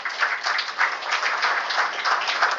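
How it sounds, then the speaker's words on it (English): Audience applause at a stock exchange listing ceremony for a photovoltaic power company's IPO, steady clapping from a crowd sustained throughout with a slight rhythmic swell. "Please continue the applause for welcoming the team from Jefferies India Private Limited"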